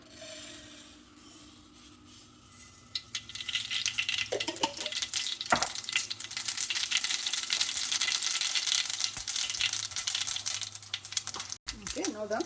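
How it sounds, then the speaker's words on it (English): Mustard seeds sizzling and crackling in hot oil in a big fry pan, starting quiet and then building to a dense, steady crackle with occasional popping and stirring, a person talking alongside. "I'm going to add some mustard seeds first"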